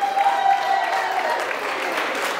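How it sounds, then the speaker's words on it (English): An audience at a theater performance by an amateur salsa dance group gives a burst of applause that starts full and gradually thins out over a couple of seconds, with a faint sustained tone in the background. "Oh, and a round of applause for Maggie."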